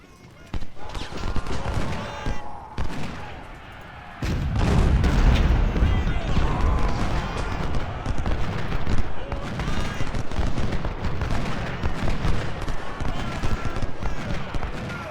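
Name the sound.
gunfire and artillery in video game Ultimate General: Civil War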